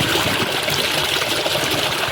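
A 600W BLDC motor water pump runs inside a drum. Water rushes and trickles in a steady, unbroken wash at close range, with no voices.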